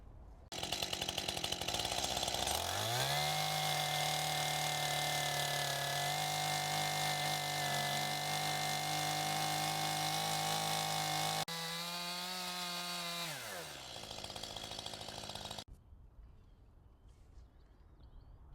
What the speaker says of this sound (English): The chainsaw is not a precision woodworking tool, but that worked